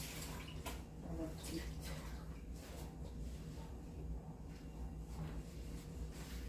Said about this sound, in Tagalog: Dito ko nasasalain sa lababo